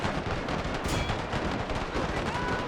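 Constant machine gun fire from British fort defenders in a Total War video game, a loud, dense rattle of overlapping shots that never lets up.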